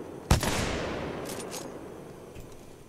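A single sharp, loud blast from the Kraber sniper rifle in Titanfall 2 rings out with a long, fading tail, followed by a few fainter distant shots.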